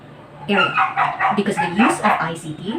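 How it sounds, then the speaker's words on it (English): A dog barks and yips repeatedly in short bursts behind a person talking indoors, the barks fairly close and mixed closely with the speech. "please excuse the dog"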